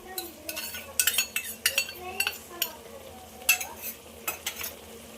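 A spoon stirs curd into Rayalaseema-style rice masala for kushka in a pot, making repeated scraping clinks against the metal over a faint sizzle of hot oil, close up and with no voices.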